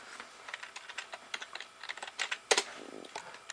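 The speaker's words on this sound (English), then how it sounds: "Let me type it in real quick." Fast, close keystrokes on a computer keyboard as a web address is entered, an uneven run of sharp clicks with a couple of louder key strikes near the end and no talking.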